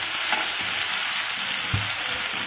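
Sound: ginger, garlic and chillies frying in a pan

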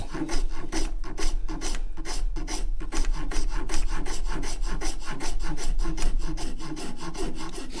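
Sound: coarse file shaping end grain of a wooden guitar neck

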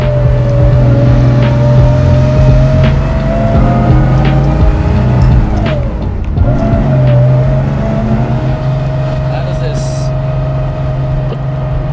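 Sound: 1969 Porsche 911T 2.0 engine while driving

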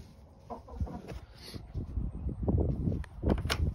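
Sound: chickens clucking

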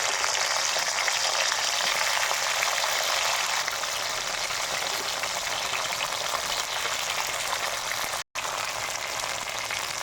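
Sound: okra frying in hot coconut oil

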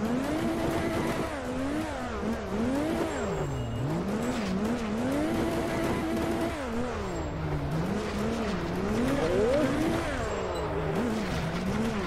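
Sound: drift car tires skidding in rFactor 2 video game

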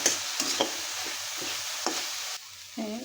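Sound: soybean snack frying in a pan

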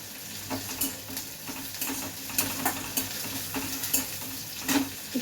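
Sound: frying onions with green chillies in a pan

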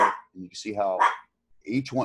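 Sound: dog barking

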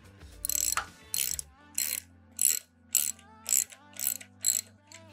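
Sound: ratchet with 13 millimeter socket tightening hex caps

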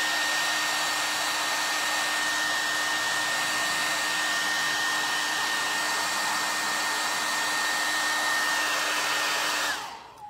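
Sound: hair dryer blowing

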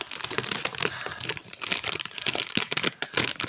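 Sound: opening a SpongeBob sticker packet

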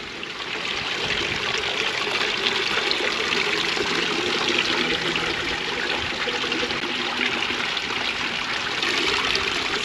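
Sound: garden water feature trickling

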